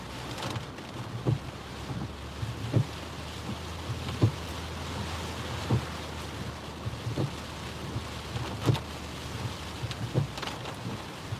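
Tropical storm Isaias on the Myrtle Beach oceanfront: steady heavy rain and gusting wind buffeting the microphone, with repeated short thumps and rumbles over a constant hiss, no voices.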